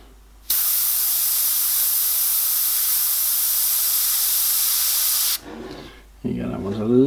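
An airbrush spraying paint onto a model metal surface with rivets and rust effects, a steady, loud, close hiss lasting about five seconds before cutting off, followed by a brief spoken remark.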